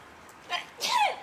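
A single person's sneeze, a short in-breath followed by a sharp, bright burst, close and fairly loud against a quiet room.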